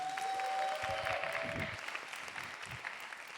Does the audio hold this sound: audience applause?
yes